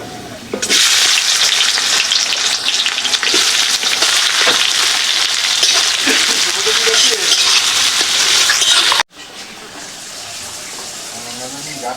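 Chopped onions dropped into hot oil with whole cumin sizzle loudly and continuously in a pan, a dense crackling hiss that cuts off briefly before resuming more quietly.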